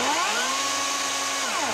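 A Toro Flex-Force cordless electric chainsaw whirs up as its motor spins, a steady close whine that rises at the start, holds briefly, then begins to wind down.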